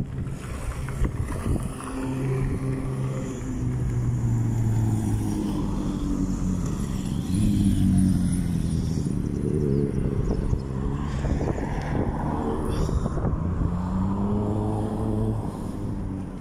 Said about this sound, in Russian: Машин 100 штук едет.